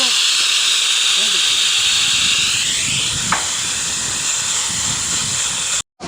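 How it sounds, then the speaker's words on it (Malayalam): A pressure cooker cooking pork curry whistles with a long, loud, steady jet of hissing steam that rises slightly in pitch, then cuts off abruptly near the end, with low voices underneath. "എട്ട് വിസിലായിട്ട് നമുക്കിനി എടുത്ത് മാറ്റാം."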